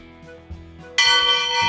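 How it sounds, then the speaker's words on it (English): A loud bell rung by pulling a rope strikes once after a couple of soft knocks, then rings on as a bright, sustained clang with rich overtones, close and dominant, with no speech. "that's a really loud bell"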